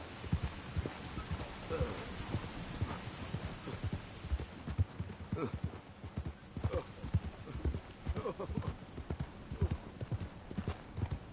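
Horse hooves clip-clop steadily along a road in Red Dead Redemption 2, a continuous rhythmic walking beat with occasional low snorts, heard close and fairly loud.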